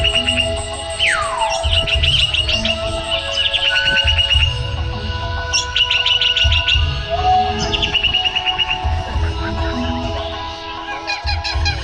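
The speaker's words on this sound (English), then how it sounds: "Shimmering birds flitted between the trees." Birds flit between jungle trees, filling the air with dense, overlapping chirps, trills and sliding whistles alongside honking, goose-like calls, busy and close throughout with no speech.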